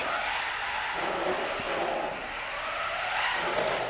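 A cheap RC car's rear wheels break loose and spin out on a road surface, giving a continuous loud whirring, scrubbing hiss with small surges in intensity and no voices.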